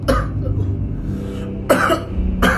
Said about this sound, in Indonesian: kenapa tiba-tiba batuk gini sih?